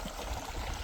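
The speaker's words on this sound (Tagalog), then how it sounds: "parang may malakas na agos ng tubig" A strong mountain stream flows through the Canadian backcountry, its water rushing in a continuous soft, even wash heard at a distance.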